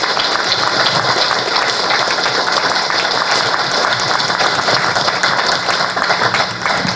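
Steady, loud audience applause at a Louisiana 6th Congressional District candidate forum, honoring the candidates running for office, with dense continuous clapping that holds for the full seven seconds.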